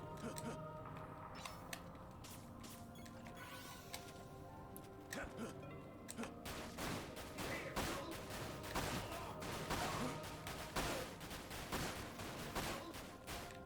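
Rapid gunfire from a shooter video game crackles in irregular bursts, growing denser and louder over the second half, with a voice talking over the shots.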